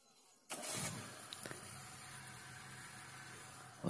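A Suzuki Esteem car with high mileage starts up after its carburetor cleaning, a sudden loud crank and catch at about half a second, then a steady idle running alone with a brief burst near the end.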